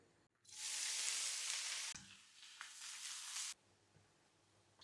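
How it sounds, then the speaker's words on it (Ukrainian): Onions frying in a pan for a borscht base give a loud, bright sizzle that cuts off sharply, surges again with stirring and then drops to a quiet hiss. "Цибулька вже у нас підсмажилася"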